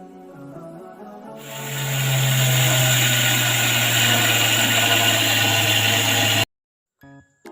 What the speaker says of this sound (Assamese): মই বাৰান্দাত সৰিয়হ ব্লেণ্ডাৰত ব্লেণ্ড কৰি আছোঁ